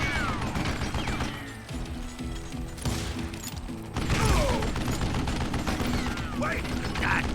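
Call of Juarez gunplay with mechanical clicks and rattles from a jammed weapon, mixed with shots and busy game effects, constant and dense throughout, with a spoken voice in places.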